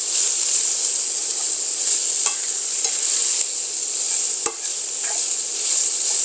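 Hunks of sausage brown in a hot pan with a loud, steady sizzle and a few faint clicks and scrapes of a utensil, with no voices.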